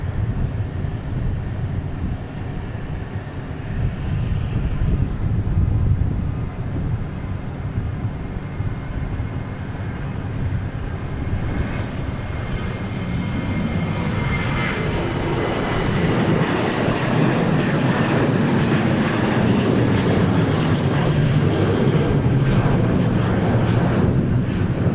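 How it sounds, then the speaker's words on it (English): A Southwest Airlines jet departs Dallas Love Field with a steady, loud engine roar that swells and brightens in the latter half as it climbs away. "another departure, Southwest Airlines."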